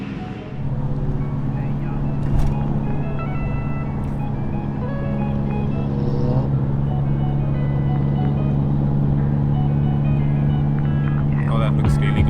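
An old Volkswagen drives past at a Volkswagen anniversary event at a motor museum, its steady engine hum and road noise continuous and fairly loud throughout, with crowd chatter and voices in the background.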